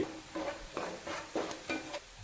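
Ground turmeric, Kashmiri chilli powder and other spices stirred in a frying pan, a soft, regular series of about six scraping strokes over a faint sizzle, close and without talk.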